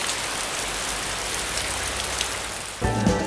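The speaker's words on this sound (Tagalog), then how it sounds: "Hindi namin napansin na umuulan sa paligid." Steady rain pours down around Baluti island, a continuous dense hiss of drops on surfaces that stays even throughout, with a louder burst of splashing near the end.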